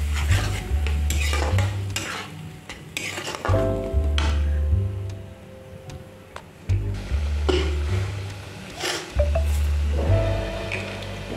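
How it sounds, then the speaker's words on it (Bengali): A spoon scrapes and clanks around a pan as masala paste cooks down with ground prawn heads and a splash of water for a pumpkin, potato and prawn curry, in irregular bursts of stirring over a soft, steady sizzle. "তো বাটি ধোয়া জলটাও দিয়ে দিলাম, একটু ভালো করে কষিয়ে নিই।"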